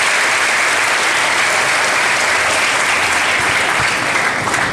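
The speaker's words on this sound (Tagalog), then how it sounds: "Muli po sa malakas na palakpak." Loud, dense applause fills the hall at an elementary school graduation ceremony, a continuous roar of many hands clapping with no other sound over it.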